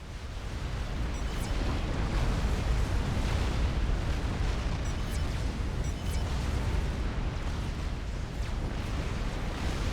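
Massive artillery bombardment in the Forged Alliance strategy game, a dense continuous roar of rumbling explosions with a few sharper pops, loud and sustained throughout.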